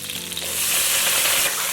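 Minced ginger, garlic and sliced chili hitting hot oil in a wok: a bright, loud sizzle that swells up after a brief moment and holds steady, close and alone.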